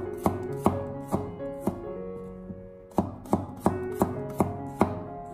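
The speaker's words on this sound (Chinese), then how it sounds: "准备几个大蒜子，先把它改刀切成薄片" A knife slicing garlic cloves into thin slices on a cutting board, a series of sharp close chops in an uneven rhythm with short pauses between them, no voices.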